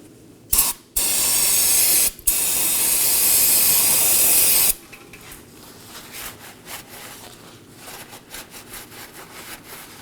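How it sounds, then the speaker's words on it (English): A can of brake cleaner sprays onto the transmission mating surface of a 2018-2024 Chevrolet Equinox 1.5L during a CV axle replacement. A loud, close hiss runs for about four seconds with brief breaks, followed by quiet wiping and handling. "I'm going to clean the mating surface on the transmission with some brake cleaner and a rag."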